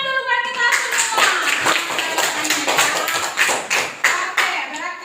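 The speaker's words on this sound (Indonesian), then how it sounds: "tepuk tangan dulu buat kita semua" Classroom group applause, a room of students clapping hands together in a steady, dense patter of close, overlapping claps that runs the full length, with some voices mixed underneath.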